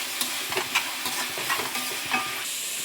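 Tomato sizzling and being stirred in a hot pan for dried fish curry noodles, a steady loud frying hiss with scattered scraping and clinking of the spatula throughout, no voices.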